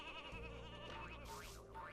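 A ram bleats in the game Space Station Silicon Valley, wavering cries layered over steady background music, loud and close.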